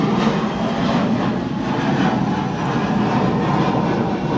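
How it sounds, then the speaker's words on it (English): A fixed-wing airplane passes directly overhead, its engine a steady, loud broadband roar that holds unbroken for several seconds with no voices, heard from outdoors. "got a plane going directly overhead here right now"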